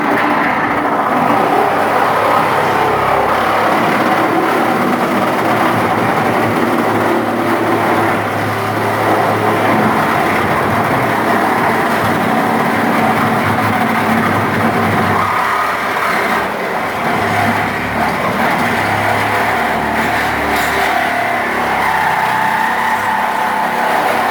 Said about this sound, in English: It's about a 10-inch blade with the Sawzall. Just to cut the big extremities off